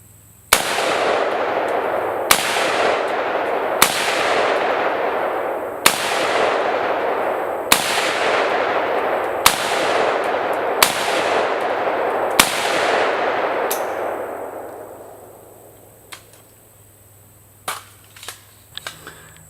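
Rifle shots fired at a target from a gun topped with a Sig Sauer Romeo 5 sight ring out as eight sharp, loud reports at steady intervals, each trailing a long echo, followed by a few faint clicks.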